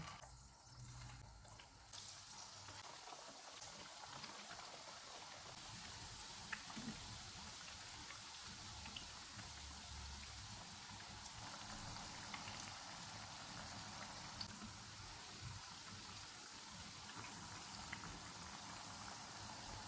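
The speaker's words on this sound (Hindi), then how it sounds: "इस तरह से तैयार करके इनको फ्राई कर लेंगे।" Potato pillow snacks deep-frying in hot oil over a low-to-medium flame, a steady, faint bubbling hiss like light rain that runs on evenly throughout.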